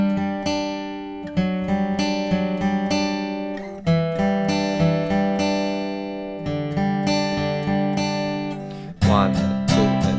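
Guitar playing verse 4 of a song: ringing picked arpeggio notes and strummed chords in a steady, moderate rhythm, heard clearly and alone.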